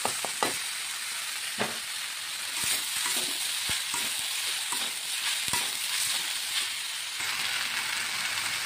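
Boiled banana flower and fried shrimp stir-fried together in a pan, a bright, steady hissing sizzle punctuated by scattered sharp spatula knocks against the metal.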